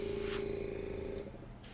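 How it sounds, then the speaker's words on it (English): Airbrush gun fed by a compressor spraying alcohol ink, a close, steady hissing spray with a constant tonal hum that cuts off after about a second, followed by short bursts of airy hiss. "Yes, it's an airbrush gun connected to a compressor."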